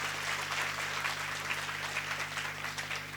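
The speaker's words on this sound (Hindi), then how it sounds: "तालियां बढ़िया से लगाओ" An audience at a spiritual discourse in a women's college claps steadily through the stretch over a constant electrical hum.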